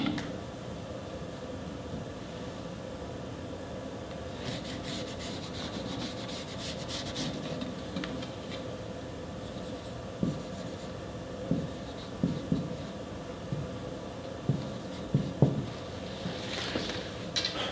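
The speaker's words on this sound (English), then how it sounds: "Just simply draw a diagonal." A pencil draws a diagonal line across paper to form a 45-45-90 right triangle inside a constructed square, a steady soft scratching that continues for several seconds with a few light taps, close and alone.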